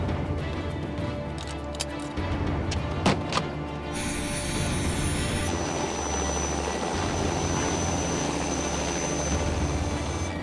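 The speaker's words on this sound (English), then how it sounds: "Your helicopter lifting off" A Lockheed Electra-related salvage helicopter's engine and rotor roar steadily up close, building in intensity as it lifts, with a constant loud mechanical drone throughout.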